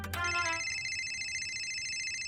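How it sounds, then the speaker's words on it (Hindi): A phone ringing in an animated scene, a steady electronic ringtone with bright sustained tones that starts after a brief sharp onset and holds unbroken, fairly close and alone with no one speaking. "रिंग तो जा रही है।"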